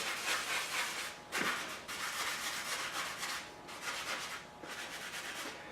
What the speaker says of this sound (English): Just sanding the surface rust off.